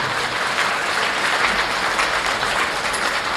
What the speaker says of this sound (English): we give these kids that are out in the ring a big round of applause